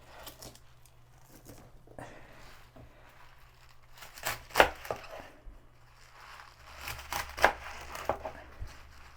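A knife trims the ends off vegetables on a cutting board. There are a few sharp, close chops with crinkly handling noises between them in a quiet kitchen.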